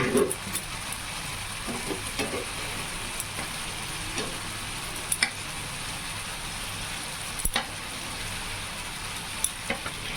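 Spices frying in hot oil for fish cutlets give a steady low sizzle with faint stirring clicks and scrapes scattered through, close and quiet with no talking.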